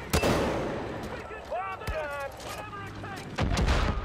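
Bazooka fire in Far Cry 5, with sharp loud blasts at the start and again near the end and booming reports between them, while a voice talks over the action.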